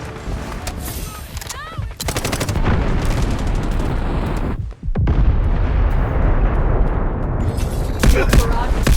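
Missile strikes in the mobile shooter game Delta Force Mobile: loud, close, rumbling explosions that roll on continuously, with a brief dip before the blasts surge again, mixed with gunfire-like crackle.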